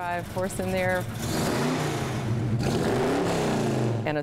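A car with a 7.5-litre engine and four-speed gearbox revs and pulls away in first gear under steady driving noise while a person talks over it.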